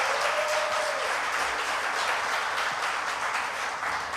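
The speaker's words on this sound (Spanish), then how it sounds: "Denle un aplauso a esas hermanas también ahí." A church congregation at a Spanish-language Advent service applauds the sisters with sustained, fairly loud clapping that stays steady for several seconds.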